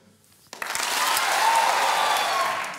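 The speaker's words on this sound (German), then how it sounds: "dann dürft mal alle ganz laut klatschen und jubeln." Studio audience at a Swiss comedy show bursting into loud clapping and cheering on cue after a brief quiet moment, sustained and full before easing slightly at the end.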